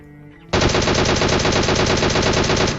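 A DP machine gun firing in PUBG, a sudden burst of rapid automatic fire that starts abruptly and rattles on without a break for over two seconds, loud and close.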